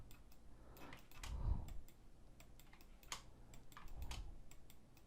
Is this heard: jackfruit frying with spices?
no